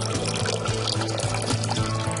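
Red wine vinegar poured for chipotle hot sauce makes a steady liquid trickle and splash throughout, close and fairly loud, with no talking.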